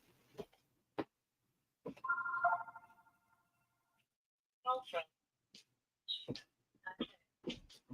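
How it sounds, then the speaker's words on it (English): A telephone rings once with a short burst of trilling bell tone, fairly quiet and close, amid scattered clicks, small knocks and bits of speech before and after. "and then of course there goes the phone"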